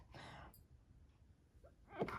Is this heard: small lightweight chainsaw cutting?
no